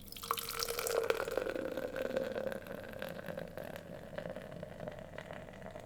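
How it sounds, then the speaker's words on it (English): Beer from a freshly cracked can is poured slowly into a glass, giving a steady close gurgling trickle and fizz that fades gradually over several seconds, with no talking. "we're going to crack open this can and blow the gain on the audio"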